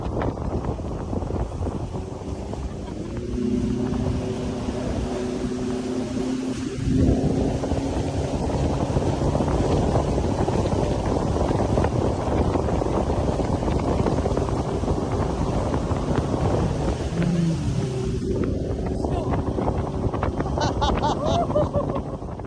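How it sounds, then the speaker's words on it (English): A speedboat runs across the Kerala backwaters with a steady engine drone, heavy wind rush over the microphone and water noise, the pitch shifting as the boat changes speed. "the way he drove the speedboat was amazing"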